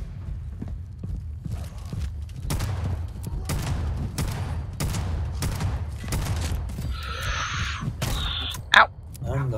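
Video game gunfire in Fallout 76, a string of sharp shots spaced irregularly, with a brief high-pitched effect and a sudden loud hit near the end.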